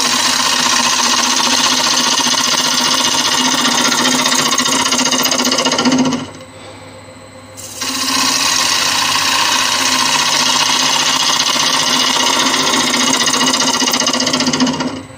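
Wood lathe facing off a pine blank, a loud, continuous buzzing whir with a gritty cutting texture, briefly dropping to a quieter hum for about a second and a half before the full cutting noise returns.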